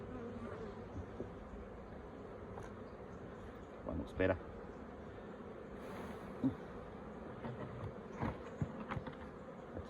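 Honeybees hum in a steady, fairly faint drone from an opened hive being packed down on a frosty morning, with a few louder buzzing passes near the ear and a brief spoken remark.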